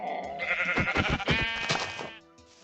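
A Minecraft sheep lets out a loud, wavering bleat that lasts about two seconds, close and clear, then fades to quiet.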